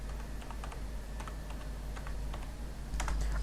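Someone types a search phrase on a computer keyboard, quick irregular runs of light key clicks close by over a steady low electrical hum, with no one speaking.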